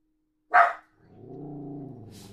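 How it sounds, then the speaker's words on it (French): A dog gives a single sharp bark, then a lower, drawn-out harmonic moan or whine follows for over a second, fairly close and with no talking. "j'ai dû calmer les chiens, je ne sais pas pourquoi ils aboient."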